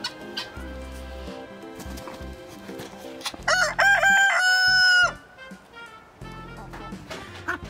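Rooster crowing within a flock, one loud, close, drawn-out crow of about two seconds amid clucking and other barnyard noises, with people talking around it.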